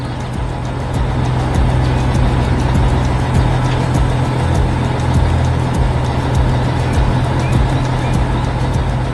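A heavy construction truck engine rumbles steadily and loudly throughout, a continuous low drone with no pauses.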